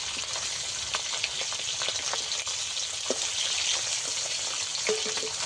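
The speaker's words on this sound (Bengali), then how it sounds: "মাছগুলো উল্টে পাল্টে ভালো করে ভাজতে হবে" Fish sizzle and spatter steadily in hot oil in a pan, with a dense, continuous hiss of frying broken by occasional sharper pops and crackles close by.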